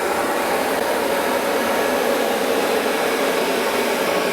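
A Bissell carpet cleaner runs with a steady, loud whooshing drone as it sucks OxiClean cleaning formula back out of carpet, unbroken throughout.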